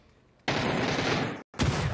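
A grenade explodes at an enemy's feet in a PUBG match: a sudden loud blast bursts in and holds for about a second, cuts out briefly, then a second burst follows.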